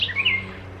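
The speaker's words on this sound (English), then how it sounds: "I love hearing the birds outside too" Birds chirp and tweet outdoors beside a backyard greenhouse, a few bright high calls clustered in the first half second over a low steady background hum.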